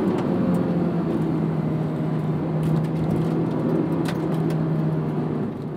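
A Honda S2000 AP1 four-cylinder engine screams at high revs, a loud, steady, close drone held for several seconds with no talking.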